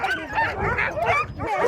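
Alaskan huskies bark, yip and whimper continuously while being hitched to sled lines during dog sled training, a dense overlapping chorus of several dogs close by.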